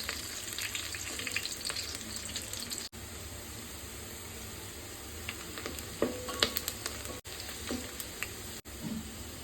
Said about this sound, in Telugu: సన్నగా కట్ చేసుకున్న ఉల్లిగడ్డ, ఇవి లైట్గా గోల్డెన్ కలర్ వచ్చే వరకు ఫ్రై చేసుకోవాలి.